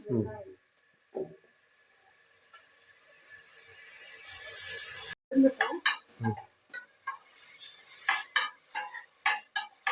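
Onions fry with a little salt in a pan for a mutton gravy, a soft steady hiss at first, then sharper clinks and scrapes of stirring follow. A voice is briefly heard near the start.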